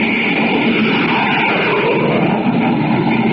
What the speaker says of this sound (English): You're listening to the blazing roar of a jet